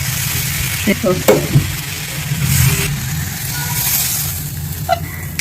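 Curry leaves sautéing in a pan with a little oil, a steady soft sizzle broken by a few brief clinks and stirring scrapes, close and moderately loud with no one speaking.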